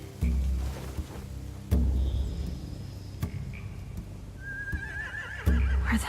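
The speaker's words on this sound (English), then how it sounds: "Find anything over here? They have horses." Horses neighing and whinnying in The Walking Dead video game, several loud whinnies spaced across the scene with hoof thumps and a quieter whinny trailing near the end, no talk.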